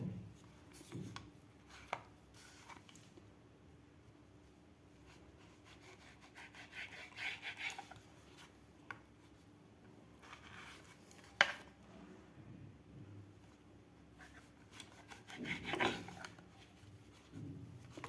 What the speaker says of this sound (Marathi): आता आपण हे ब्रेड कट करून घेऊया.